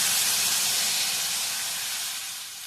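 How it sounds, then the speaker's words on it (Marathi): Boiling water pours steadily into a pan on a low gas flame while fasting-day ragda is cooked, a continuous close hiss that slowly fades as the stream thins out. "हे जे पाणी उकळलेलं होतं ते उकळतं पाणी आपण ह्यामध्ये घालणार आहोत"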